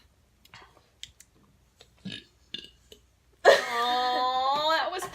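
A loud, long, drawn-out burp during a burping contest erupts after a few faint clicks and mouth noises, then holds steady for nearly two seconds.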